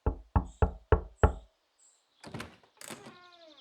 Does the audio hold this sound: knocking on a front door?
yes